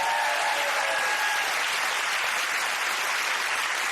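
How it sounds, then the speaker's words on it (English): A television comedy quiz studio audience claps in a sustained, even wash of applause, moderately loud and unbroken throughout. "Round of applause, I think."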